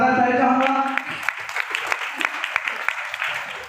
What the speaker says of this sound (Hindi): जितेंद्र कुमार नायक और निम्बाकर सर के लिए भी शानदार ताली चाहूंगा।